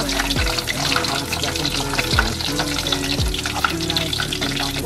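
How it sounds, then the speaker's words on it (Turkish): Chicken nuggets frying in hot oil in a home kitchen, a dense, continuous crackling sizzle close by with a few clinks and scraping stirs, no talking. "Nuggetlarım güzelce kızarsın."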